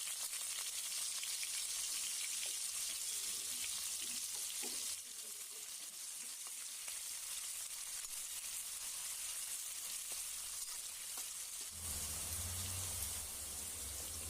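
Onions sizzle in hot oil for Tamil-style rava kichadi, over fennel, cinnamon and bay leaf, giving a steady, even hiss throughout with a few faint clinks, and a low hum entering near the end; no one speaks.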